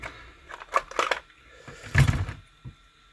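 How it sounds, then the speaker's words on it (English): The bolt is pulled from a KWC CO2 airsoft Uzi, giving several sharp metallic clicks and scrapes close up, with a heavier clack near the middle and a soft tap at the end. "if I pull the bolt out"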